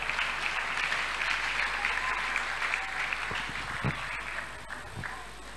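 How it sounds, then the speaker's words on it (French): Inside a church during a pastors' consecration service, a congregation keeps up continuous, even applause that fills the space, with a constant low hum underneath and a few louder thumps near the end. "Nous l'accueillons avec nos acclamations."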